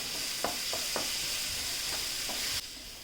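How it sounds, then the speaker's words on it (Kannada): Masala fries in a pan with a soft, steady sizzle, broken by several light scrapes of a spoon, before the hiss suddenly quiets near the end; no talking. "ಇವಾಗ ಇದ್ರದ್ದೆಲ್ಲ ಹಸಿ ವಾಸನೆ ಹೋಗೋವರೆಗೂ ಚೆನ್ನಾಗಿ ಫ್ರೈ ಮಾಡ್ಕೊಳ್ಳೋಣ."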